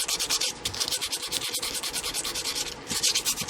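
Sandpaper rubs by hand along a guitar neck in a steady back-and-forth rhythm of rasping strokes, close and fairly quiet, with no talking.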